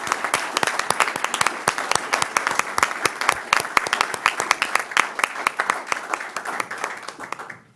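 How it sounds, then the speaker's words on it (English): A room at a board of directors meeting breaks into a sustained round of applause, dense many-handed clapping that holds steady for several seconds and then tapers off at the end. "I'd ask to give him a round of applause for the work that he's done."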